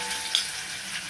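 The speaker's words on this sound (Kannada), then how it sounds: "ಈರುಳ್ಳಿನ ಹಾಕ್ಕೊಂಡು ಸ್ವಲ್ಪ ಫ್ರೈ ಮಾಡಬೇಕು." Onions frying in a pan, a soft continuous sizzle, fairly faint and even, with a single light tick partway through and nobody talking.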